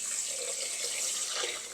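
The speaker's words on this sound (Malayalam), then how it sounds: "നന്നായിട്ടത് ഞെരടി കഴുകി നമുക്ക് നല്ല ക്ലിയറായിട്ടുള്ള വെള്ളത്തിൽ വേണം കുതിരാൻ വയ്ക്കാൻ" Water runs and splashes steadily while two cups of idli rice are rubbed and rinsed for Kottayam-style vattayappam, a close, continuous wash with no talking.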